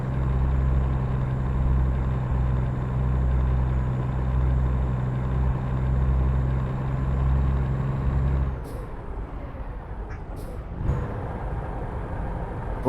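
Heavy truck engine in American Truck Simulator, a loud steady low drone with rhythmic pulsing that cuts off abruptly partway through, leaving quieter rumbling and a few sharp hissing bursts.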